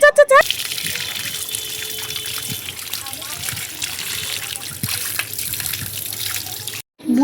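Running tap water pours and splashes steadily while aloe vera gel is rinsed, with a brief voice at the start and a short break near the end.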